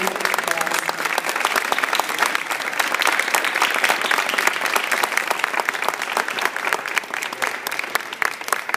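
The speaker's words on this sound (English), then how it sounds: "Give them a round of applause." A school audience claps for fifth graders at a DARE graduation, dense, lively applause that stays loud and even from start to finish, with some voices mixed in.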